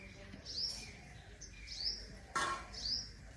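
Small birds chirp in short repeated bursts in a village at midday, three bright calls spaced about a second apart over quiet background noise.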